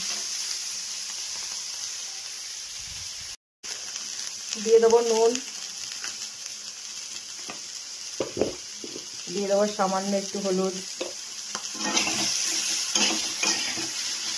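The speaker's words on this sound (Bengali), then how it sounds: "তেল গরম করে পাঁচফোড়ন দিয়ে নিয়েছি সবজিগুলো, একটু ভাজা ভাজা করে নিই" Vegetables and shrimp fry in hot oil seasoned with panch phoron, a steady close sizzle running the whole time while someone talks over it in Bengali.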